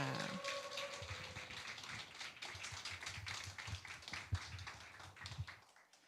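Church congregation claps to welcome the pastor, a soft, scattered patter of many hands that continues for several seconds, with a brief voice at the very start.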